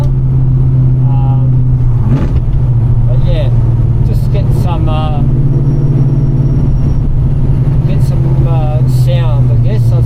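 A 1970 XY Falcon's engine idles with a steady, loud low rumble throughout, while a person talks briefly over it near the start and the middle.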